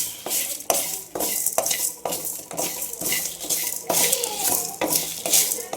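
A metal spoon stirs whole spices dry-roasting in a pan over medium heat for a spice powder, making brisk, rhythmic scraping and clinking strokes about twice a second, close up, with no talking.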